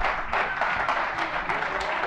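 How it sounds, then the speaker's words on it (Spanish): At a homebrewer awards gala, the audience gives steady, moderately loud applause, many hands clapping together in the hall. "Pues un fuerte aplauso, venga,"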